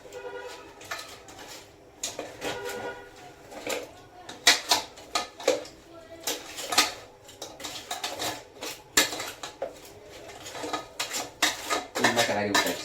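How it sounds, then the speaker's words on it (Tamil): Crab gravy is stirred in a pot with a spoon, making a long run of rhythmic scraping and clinking strokes against the metal, close and fairly loud, with no one talking. "எல்லா பக்கமும் சாந்து போகிற மாதிரி ஃபுல்லாக கிளறி விட்டாச்சு."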